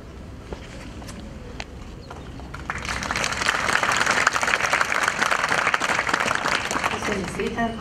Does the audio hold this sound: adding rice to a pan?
no